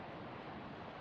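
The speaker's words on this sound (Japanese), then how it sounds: "これは波の音ですね。" Ocean waves in the video game Kamaitachi no Yoru 3, a faint, steady wash of surf with no distinct breaks.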